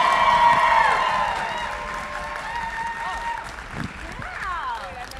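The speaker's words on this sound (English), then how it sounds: "You guys please give a huge round of applause everybody" Convention crowd applauding and cheering as an anime voice actor panel takes the stage: loud dense clapping with whoops that fades gradually, voices chattering over the tail.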